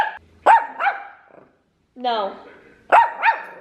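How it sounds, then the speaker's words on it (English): A puppy at home lets out several loud, close barks and yips in quick pairs, separated by short gaps, while someone talks to it in between. "Why are we barking?"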